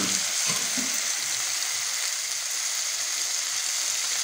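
Small diced chicken pieces fry in butter in a pan, giving a dense, even sizzle close up with a few soft stirring knocks near the start.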